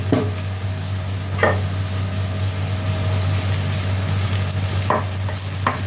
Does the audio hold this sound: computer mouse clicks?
no